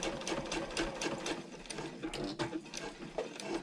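Sewing machine stitching a handbag panel, running in short bursts forward and back with a steady rapid needle rhythm, close and moderately loud, no talking.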